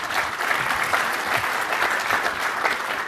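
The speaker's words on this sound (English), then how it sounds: "I think it requires applause." Audience applause at a technical presentation, a continuous wash of many hands clapping at moderate volume, steady throughout with no speech over it.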